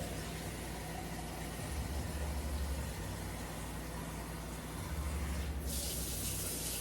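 Water runs steadily from a kitchen tap while cooking, a continuous hissing stream with a shift in tone near the end as the flow or container changes.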